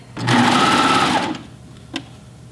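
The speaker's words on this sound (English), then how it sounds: "you can do this on your sewing machine also and you're going to want to use a zigzag stitch or some other stretch stitch" Sewing machine running a zigzag stretch stitch in one short burst of about a second, close and humming, followed by a soft click as it stops.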